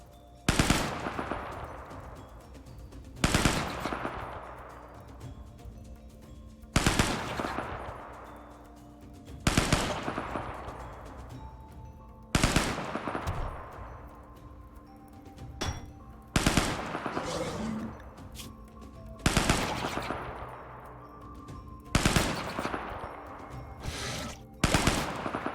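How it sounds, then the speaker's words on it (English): Automatic gunfire from a machine gun in the video game RimWorld: seven or eight loud, sharp bursts at fairly regular intervals of about three seconds, each with a short decaying tail, and no talking. "So 33 rounds of ammunition remaining."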